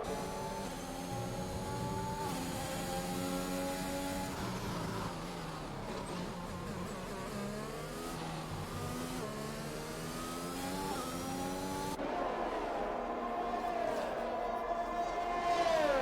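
Formula 1 cars, a Mercedes and a Ferrari, race in a video game at a British circuit. High-pitched engines whine continuously, with pitch sweeps and drops as the cars scream past close by.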